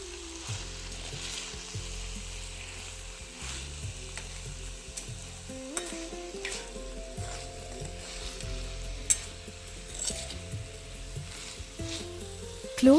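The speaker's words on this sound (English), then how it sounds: "open the lid and mix it again so that the masala does not stick to the bottom" Cabbage (patta gobi) sabji coated in masala sizzles steadily in a pan while being stirred, with soft scraping and occasional utensil clinks against the bottom, close and continuous, no talking.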